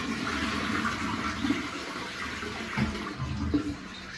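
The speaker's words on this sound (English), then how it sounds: "That's right, it was a toilet." A toilet flushes indoors with a rushing, gurgling wash of water that swells and churns for several seconds at moderate loudness.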